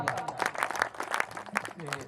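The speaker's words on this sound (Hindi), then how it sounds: "बस इसी तालियों के साथ भाई पुष्पराज केसरी जी, जोरदार तालियां।" Audience applause at a Hindi kavi sammelan poetry recital, brisk scattered clapping mixed with a voice speaking over it, fairly close and moderately loud.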